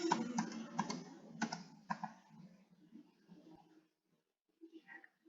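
Quick bursts of keystrokes on a computer keyboard as a spreadsheet formula is entered, soft rapid clicking for a couple of seconds, then slowing to a few scattered taps and near silence.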